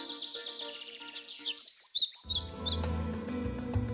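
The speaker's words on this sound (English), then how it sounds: "Crows crowed, doves cooed, chickens clucked, owls hooed, robins chirped, pheasants whirred." Birds chirp and twitter in quick, bright bursts, then a low droning sound swells in underneath while the chirping fades.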